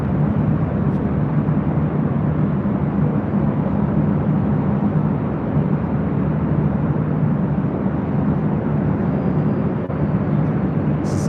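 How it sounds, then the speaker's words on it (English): A four-year-old Emirates Airbus A380 jet at LAX gives off a steady, broad roar with a low rumble, moderately distant and continuous with no talk over it. "This is Emirates Flight 216 heading back to Dubai. It's a 4-year-old A380 Super."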